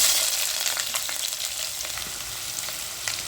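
Chopped onions hit hot cow ghee and oil already seasoned with bay leaf, cardamom, cloves and cinnamon for egg biryani, giving a steady, close, bright sizzle that holds evenly throughout with faint crackles and no voices.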